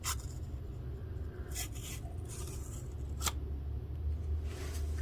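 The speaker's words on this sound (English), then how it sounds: "That's sharp when you can shave the flat side of paper." A sharpened Kershaw knife blade shaves the flat side of a sheet of paper in a few short, faint rasping strokes over steady background hiss, with no talking.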